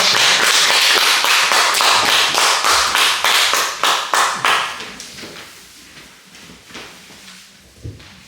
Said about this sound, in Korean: 박수로 모셔주시기 바랍니다